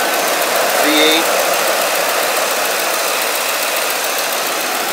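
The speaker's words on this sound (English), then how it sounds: "Let's take a look at the engine running on this 2003 Ford Expedition." A 2003 Ford Expedition's 5.4-liter Triton V8 with 123,000 miles idles with a steady, loud, broadband rumble and hiss. It runs evenly throughout, heard up close with no one talking.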